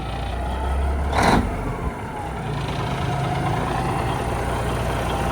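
Truck engine with second-generation straight exhaust pipes, a loud, close, rumbling idle that surges briefly into a rev and settles back to a steady, throaty drone.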